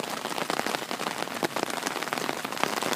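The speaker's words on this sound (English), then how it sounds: "It's raining hard." Hard rain pours down steadily and close by, a dense, continuous patter of drops hitting surfaces with no voices.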